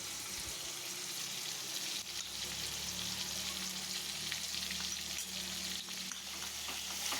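Ginger paste fries in hot oil with a continuous, fairly quiet sizzle and a low, steady hiss, broken by faint occasional stirring clicks.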